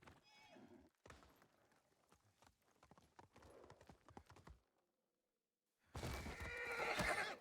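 A horse whinnies and its hooves clip-clop in Ghost of Tsushima, the hoofbeats sharp and rapid over the first seconds, then a brief silence before a loud, dense burst of galloping and neighing closes it.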